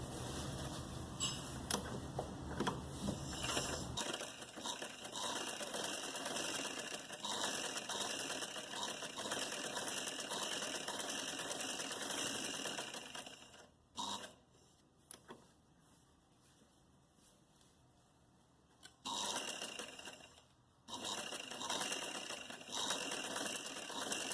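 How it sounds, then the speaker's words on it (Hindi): A sewing machine stitching salwar cloth with piping, a fast mechanical clatter running steadily in long bursts with brief pauses between, close and moderately loud, with no talking. "अब हम सबसे पहले यहाँ एक सिलाई कर लेते हैं, इसको बिठा के।"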